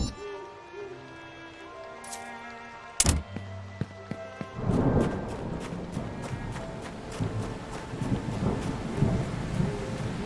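Rain and thunder weather effects in the video game Sunken Realms: one sharp crack of thunder followed by a steady wash of rainfall through the rest of the scene, with soft game tones underneath.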